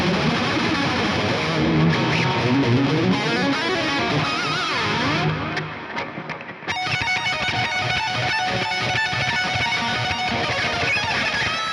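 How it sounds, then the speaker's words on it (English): Distorted electric guitar lead through the Bogren Digital S_Zero 93 Silenoz signature amp plugin with delay and reverb engaged, sustained saturated notes and bends ringing with echo tails, playing alone for about twelve seconds with a brief dip midway. "let's again engage the delay and the reverb for some nice lead tones"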